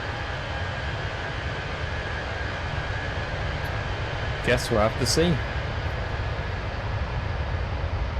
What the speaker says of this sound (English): So you can hear the sound of the engine when I'm kind of at the rear side of the aircraft.